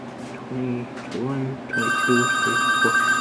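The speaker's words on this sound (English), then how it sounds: "I got to answer the phone." A telephone rings in a workshop during the rewinding of a Briggs & Stratton ignition coil, its sustained electronic tone starting partway through and continuing steadily while someone talks.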